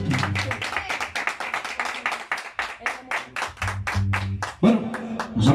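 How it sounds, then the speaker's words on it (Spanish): Applause after a mariachi song at a birthday celebration, a burst of many hands clapping in a quick, uneven rhythm, fairly close, with some voices mixed in. "Un aplauso."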